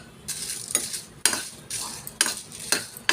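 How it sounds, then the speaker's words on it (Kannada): Broken dry red chillies frying with fenugreek seeds in a pan over low heat for a raw mango chutney, with repeated scraping stirs of a metal spoon in an uneven rhythm over a faint sizzle. "ಅದಕ್ಕೆ ನಾನು ಒಣಮೆಣಸನ್ನು ಹಾಕ್ಕೊಳ್ತೀನಿ."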